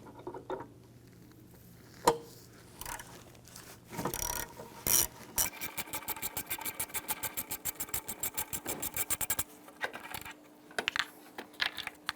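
A 10 mm ratchet backs off the heat shield bolts on top of a catalytic converter on a 2011-2016 Hyundai Elantra, with scattered metal clinks, then a fast, steady run of ratchet clicks close up.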